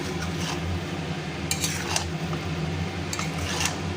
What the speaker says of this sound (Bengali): এবার মশলাটা দিয়ে দিলাম এবং মশলাটা দিয়ে ভালো করে আমি কষিয়ে নেব